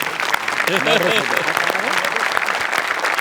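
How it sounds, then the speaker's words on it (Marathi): A studio audience at a Marathi television comedy show claps in a steady, dense burst of applause for about three seconds, with a voice briefly rising over the clapping. "यासाठी जोरदार टाळ्या झाल्या पाहिजे"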